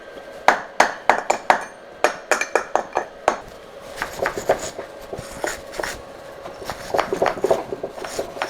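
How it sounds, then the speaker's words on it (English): Sharp metallic taps and scraping from a wire brush and chipping tool cleaning a trailer jockey wheel come in quick bursts, then give way to denser rasping brush strokes, close and fairly loud. "give it a bit of a clean up with a wire brush and a chipping tool"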